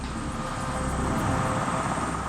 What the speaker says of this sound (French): Seulement l'hélicoptère est piégé sous les branches qui se sont refermées après son passage